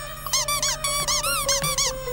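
Cartoon character's rapid high-pitched squeaks, a run of short chirping bursts in quick succession, loud and clear over a faint steady background tone.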